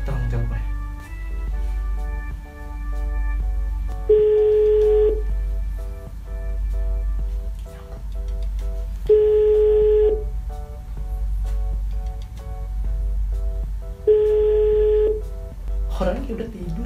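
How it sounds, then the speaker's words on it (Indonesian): A phone call placed in the pre-dawn sahur hours, with a steady ringback tone sounding in three evenly spaced bursts over a low hum, and a person talking quietly between the tones. "Oke, langsung gue telepon aja."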